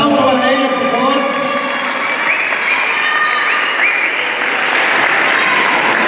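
Loud, dense applause from a school audience fills the hall as a student at Colegio de Difusión Artística Los Ulmos receives her diploma, with crowd voices and faint cheers mixed in throughout.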